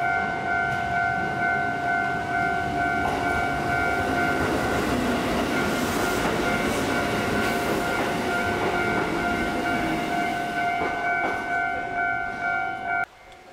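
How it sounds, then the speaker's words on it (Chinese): A Kotoden tram in Takamatsu, Japan rumbles past at night, a continuous rolling rail noise with steady high tonal whine from the car, fairly close and loud, ending abruptly. "这是高松他们的路面电车"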